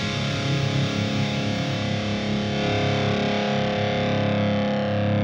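A heavily distorted electric guitar through a PRS Archon amp model on an FM9 with the mids removed holds a thick, buzzing tone that sounds hollow and scooped, sustained steadily without pauses.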